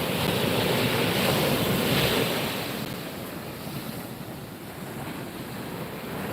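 Ocean waves breaking on a beach where a horseshoe crab tumbles in the surf, a continuous close wash of surf with wind buffeting the microphone, loudest early and easing slightly later.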